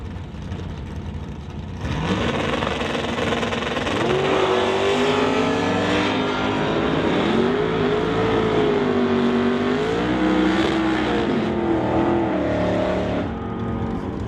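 A Dodge Dart and a Pontiac drag race at an NHRA Summit ET Series event, their engines roaring loudly and continuously, the pitch swelling and sliding as they rev and accelerate down the strip.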